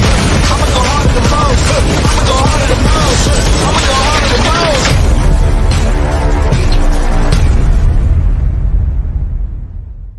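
Loud, dense mayhem from the 2022 action film White Elephant, with booming explosions and rapid bursts of gunfire layered together, fading out at the end.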